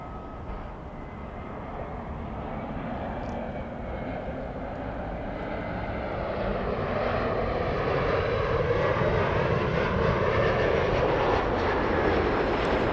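Embraer E175 jet airliner engines at Los Angeles airport, a steady broadband roar that builds gradually as the aircraft lines up, continuous and fairly close with no talk.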